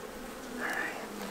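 Honey bees buzzing inside an opened hive's top box during a swarm-prevention inspection, a steady low hum with a brief louder, higher whine as a bee passes close to the microphone, no voices.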